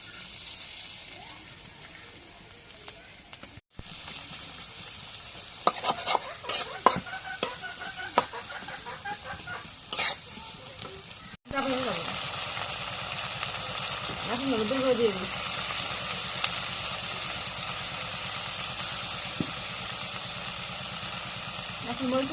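Chopped onion goes into a pan for frying fish, giving a steady broadband sizzle with stirring clatter, some scraping and splashing, and a louder, denser hiss after a short break.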